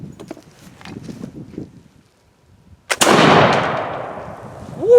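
A flintlock gun fired upside down with Schuetzen black powder: faint clicks and handling, a hush, then a sharp, loud close-range blast followed by a long booming roar that slowly decays.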